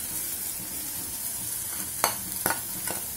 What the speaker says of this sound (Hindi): इन्हें मिक्स कर लेंगे हम और भून लेंगे 2 मिनट के लिए।